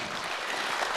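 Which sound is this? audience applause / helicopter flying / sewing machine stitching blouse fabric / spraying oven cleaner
audience applause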